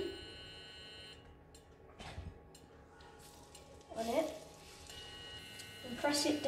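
Potato cakes fry in oil in a pan with a faint, quiet sizzle, swelling into brief louder crackling bursts near the end.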